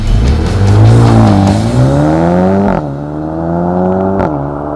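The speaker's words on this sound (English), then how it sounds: "So let's take it for a drive, see what we think." A 2020 Mercedes-AMG A35 sedan with a pumped-up four-cylinder engine drives along, loud and close, its engine note rising and falling through gear changes with steady road noise beneath.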